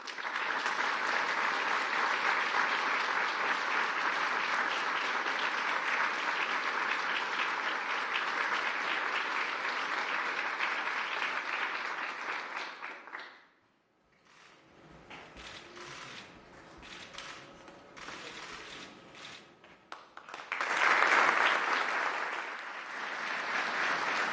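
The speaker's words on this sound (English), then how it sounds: "I'd like to give one last round of applause to the recipients of" Sustained applause fills the hall at a White House ceremony honouring recipients of the Public Safety Officer Medal of Valor. It fades out, leaves quieter shuffling, then surges again in a loud fresh round.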